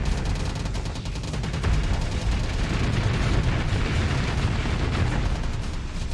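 Front guns of a ship firing in the space game Starsector, a dense, continuous barrage of rapid booming shots blending into a loud, steady rumble with no pauses.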